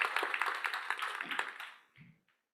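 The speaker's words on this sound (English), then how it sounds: "A round of applause for our finalists once more" Audience applause for startup award finalists at an innovation awards final, a dense burst of clapping that carries on steadily, then fades and trails off into silence with a few final scattered claps.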